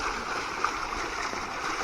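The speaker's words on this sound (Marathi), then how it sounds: "बघा पाण्याचा झोत बघा कसला आहे" A strong stream of water rushes steadily near the field where bullocks are brought to be washed after rice planting, a close, continuous broadband gush with a faint splash.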